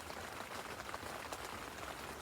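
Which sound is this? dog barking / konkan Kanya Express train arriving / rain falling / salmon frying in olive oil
rain falling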